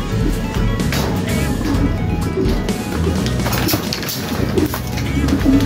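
At a loft in a racing pigeon race, a returning pigeon arrives amid fluttering, knocks and thwacks, with scattered coos and busy close background noise throughout.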